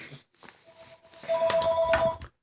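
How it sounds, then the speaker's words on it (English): A telephone rings indoors in a steady pulsing electronic trill, moderately loud and close, with faint background rustling and no speech. "Sorry about that, the phone rang."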